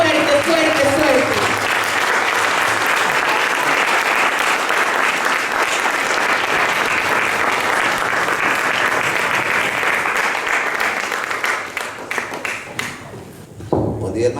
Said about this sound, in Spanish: Un aplauso al Rey. Un aplauso fuerte, fuerte, fuerte.